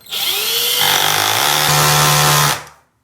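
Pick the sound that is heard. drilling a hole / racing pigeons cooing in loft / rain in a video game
drilling a hole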